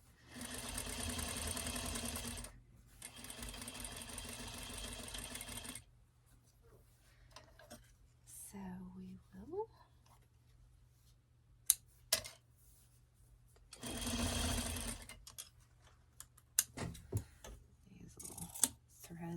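A sewing machine stay-stitches fabric for a bumble bee dress, running in two steady whirring stretches, a pause, then another short run, with clicks, handling noises and someone talking between the runs.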